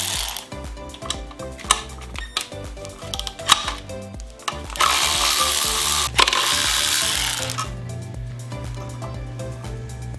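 A ratchet removing the oil pump bolts from a Jeep stroker engine, a series of close clicking ratchet strokes and metallic clinks, followed by a louder sustained whirring stretch, with no talk.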